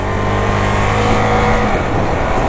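Husqvarna Vitpilen 401 motorcycle engine holding a loud, steady rev close by, continuous throughout with no breaks and no voices over it.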